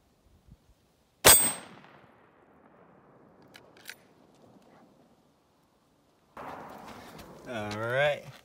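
A .30-06 rifle shot strikes a steel target with one sharp, loud crack and ringing clang, followed by a fading resonant tail, then a scuffle and a voice speaking.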